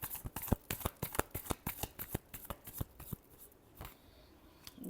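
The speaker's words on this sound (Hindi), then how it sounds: "Last shuffle." Tarot cards being shuffled by hand: a quiet, steady run of crisp riffling flicks, many evenly spaced snaps over several seconds, close to the listener with no talk over them.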